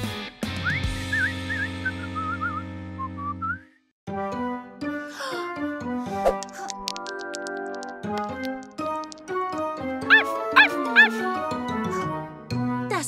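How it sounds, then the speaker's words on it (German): A cartoon dog yips and barks in short bursts over a bright musical score and whistling tones, with character voices talking in between in an animated children's episode. "Das war definitiv Hundebellen."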